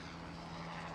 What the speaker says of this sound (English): Simon, your ride is here, the San Diego Police Department helicopter.